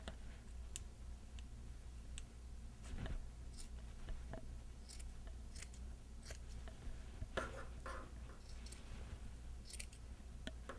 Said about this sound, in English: Now, I don't cut all the way to the end because we want this for the cuffs.